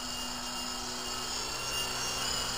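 Interceptor 052 RC helicopter flying nearby, a steady, loud whine of electric motor and spinning rotors holding constant pitch throughout without pauses or talk.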